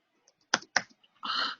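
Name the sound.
typing an import CSV command in PowerShell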